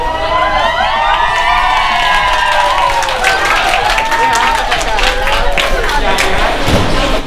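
A crowd at a first-prize lottery payout celebration cheers and screams loudly and continuously, high shrieks layered over a noisy throng, with scattered thuds toward the end.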